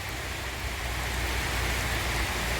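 Steady rain falling beside the Jhelum river in Srinagar, a dense even hiss of drops that continues without break, with no voices.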